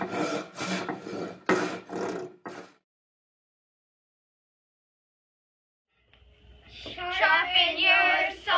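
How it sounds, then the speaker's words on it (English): Rhythmic rasping strokes of a hand saw cutting wood, several quick back-and-forth passes, then a long silence before more scraping with a squeaky, creaky edge. "I'm too busy sawing."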